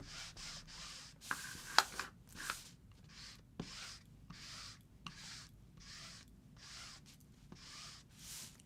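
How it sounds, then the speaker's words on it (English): Warm cocoa ink is rubbed over an embossed card in soft, quiet strokes, a rhythmic series of dry rubbing swipes about once a second, faint and close, with no talking. "So now I'm just going to rub some warm cocoa over it."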